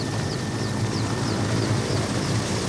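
A helicopter on a special flight to the village of Indiga, a loud steady rotor and engine drone with a rhythmic blade chop, continuous and close, with no talking.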